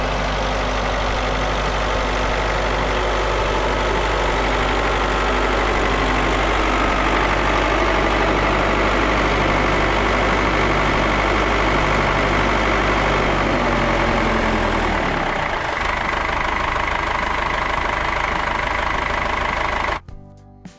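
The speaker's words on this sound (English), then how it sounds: "A Belarus 82 fights through." A Belarus 82 tractor engine labors through deep snow, a loud, continuous low rumble with knocking pulses that drops away abruptly near the end.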